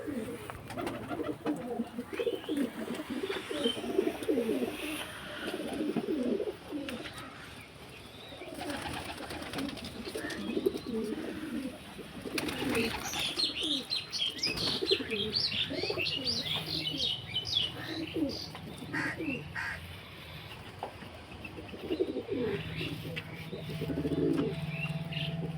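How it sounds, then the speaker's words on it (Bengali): Pigeons at a loft coo and chirp, with brief wingbeats as one is released, nearby and fairly soft over a background of outdoor noise. "দাদা ছেড়ে দিল ওই পায়রাটা"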